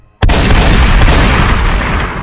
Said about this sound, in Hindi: उसने एक के बाद एक 3 गोलियां चलाईं